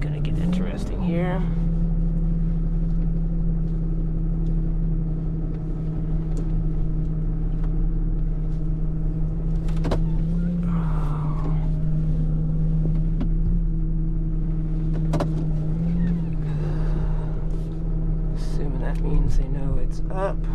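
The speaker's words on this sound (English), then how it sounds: "Kick on the PTO." A tow truck idles with its power take-off engaged, a steady close engine drone running throughout with small pitch bumps and a few faint clicks and rustles.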